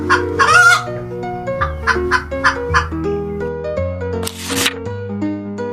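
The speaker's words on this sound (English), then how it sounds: "Hens cluck gently to talk to their chicks" Hens clucking gently in a farmyard as they keep their chicks close, a run of soft repeated clucks and short calls over light background sound, with a brief burst of rustling noise near the end.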